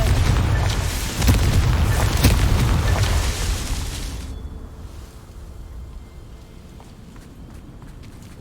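A Confringo fire spell explodes in Hogwarts Legacy: a loud, dense blast with heavy low rumble for about four seconds, then tailing off into a quieter rumbling decay.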